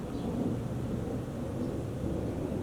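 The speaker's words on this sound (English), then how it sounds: "You hear that thunder?" Low, continuous rumble of thunder in Louisiana rolling steadily in the distance, with a broad muffled roar and no talking.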